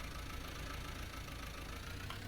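A small tractor engine from Farming Simulator 19 idles in a steady, faint, even drone with no talk over it.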